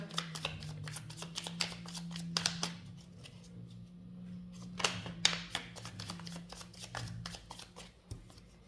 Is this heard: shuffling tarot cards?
yes